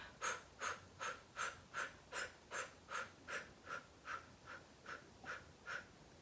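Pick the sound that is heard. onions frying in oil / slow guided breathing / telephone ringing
slow guided breathing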